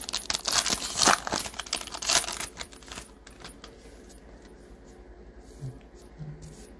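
Foil wrapper of a 2021-22 NBA Hoops trading card pack being ripped open close by, with loud crinkling and tearing for about three seconds before it fades to quiet handling.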